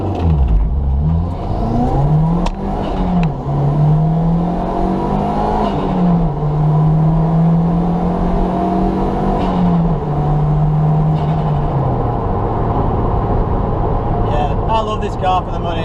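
A Toyota MR2 Roadster Spyder with a turbocharged 1ZZ engine pulls hard, its engine note rising and sweeping through the revs for about twelve seconds before easing off, loud and close, with some mechanical whir underneath.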